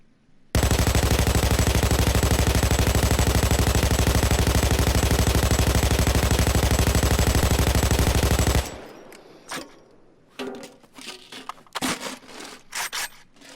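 An RPK light machine gun in Payday 2 fires one long, loud, continuous automatic burst lasting about eight seconds, followed by scattered quieter clatter and handling noises.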